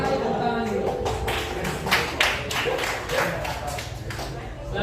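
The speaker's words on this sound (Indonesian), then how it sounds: "Kita kasih tepuk tangan dulu." Classroom applause during a micro-teaching session, a group clapping in quick uneven bursts at moderate volume, with some voices underneath.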